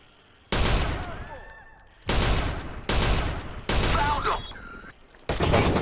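Sniper gunfire in Watch Dogs: loud bursts of shots come in separate blocks with quieter gaps between them, mixed with game effects and a voice talking.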